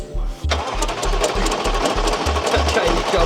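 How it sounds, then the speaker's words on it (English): A British muscle car engine with a loose, jumping timing chain runs close by, hammering out a fast, regular knocking rattle over a rough idle after an abrupt start. "That chain's jumping."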